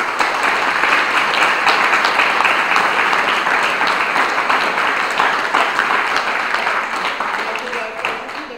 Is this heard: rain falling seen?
no